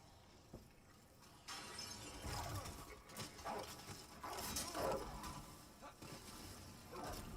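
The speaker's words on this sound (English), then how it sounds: "There's some dogs right there." Dogs barking and whimpering in the PS5 remake of Demon's Souls, mixed into dense game noise with glass-like crashes and a voice talking over it.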